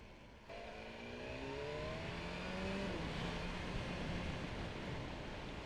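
A 2023 BMW S1000R Sport motorcycle accelerating hard on a twisty road, its engine note climbing steadily in pitch through the gears, loud and close, with no talk over it.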